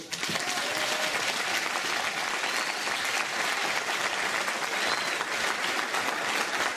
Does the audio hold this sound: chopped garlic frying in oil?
no